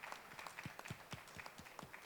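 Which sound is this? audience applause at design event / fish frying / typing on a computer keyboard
audience applause at design event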